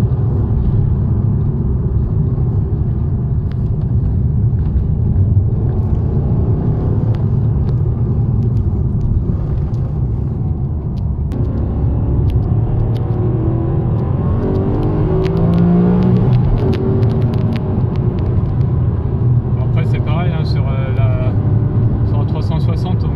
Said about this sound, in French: On a le son qui est un petit peu feutré, la voiture est vraiment bien insonorisée